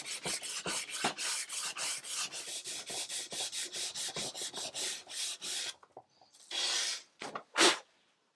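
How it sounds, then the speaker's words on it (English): Antique wood veneer on a marquetry table is sanded with 180-grit paper at low speed, producing rapid rhythmic rubbing strokes, close and steady, then slowing into a few separate longer swipes near the end. "I was sanding this on low speed with 180 grit"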